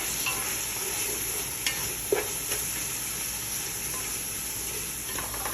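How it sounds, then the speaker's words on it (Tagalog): Frying food with chopped tomato and spices being stirred in a pan for a Filipino-style stuffed grape leaf fatteh, a constant close sizzle broken by a few sharp utensil clicks and scrapes, no talking. "I-mix ko siya. At add ko na rin itong spices."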